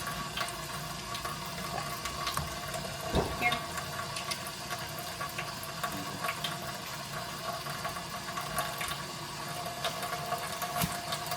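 Water runs steadily from a kitchen sink tap during cleanup after meat, a continuous broadband hiss with a few clinks and thuds of dishes or hands in the basin.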